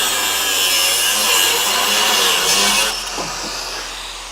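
Rusty sheet metal being cut out of the body of an old Dodge Charger crew cab project car, a steady close grinding rasp that holds for about three seconds and then eases off.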